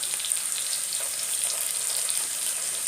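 Onion paste sizzles steadily in hot oil for a village-style potol dorma, a dense, even frying hiss close up with no pauses and no voices.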